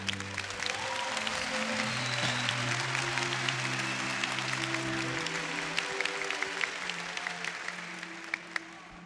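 A church congregation applauds loudly and steadily during a Portuguese-language worship service, with dense sustained clapping layered over music, the sound holding strong throughout before tapering slightly toward the end.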